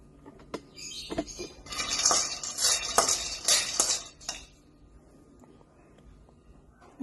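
Peanuts are stirred while dry-roasting in a pan, a burst of rattling, scraping nuts and utensil against metal lasting a few seconds in the middle, with quieter clinks before and near silence after.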